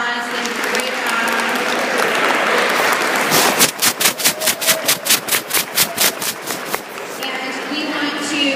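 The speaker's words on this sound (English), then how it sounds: "give these ladies a final round of applause" A high school assembly audience applauds student presenters, a loud dense crowd of clapping that gives way to a run of rhythmic, evenly spaced unison claps before dissolving back into scattered applause.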